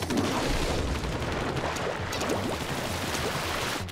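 Splatoon ink weapon fires in a dense, continuous spray of rapid shots over a steady wash of game noise, moderately loud, with no voice over it.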